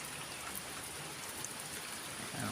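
Steady rain falls outside a shelter where piglets are kept, a soft, even patter with faint drips throughout and no voices.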